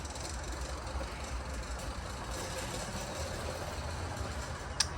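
A stretched mini bike engine on a night ride, a steady rumbling drone held close and continuous, with a single sharp click near the end.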